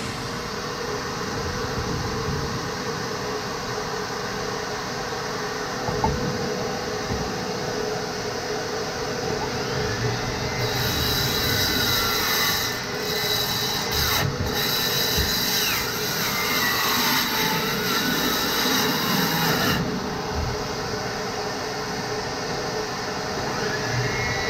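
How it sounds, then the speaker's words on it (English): A DeWalt 20V cordless vacuum cleaner running on a Makita 18V 1.5Ah battery drones steadily and loudly for the whole stretch, its pitch rising and brightening midway before settling, with no voices over it. "I'm gonna fire up the vacuum so you won't hear my awesome narrations."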